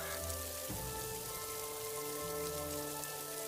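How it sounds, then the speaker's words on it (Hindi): Heavy rain falls in a steady, dense wash of patter on open ground, continuous and fairly loud throughout, with a soft musical tone underneath and no voices. "बारिश तेज होती जा रही थी।"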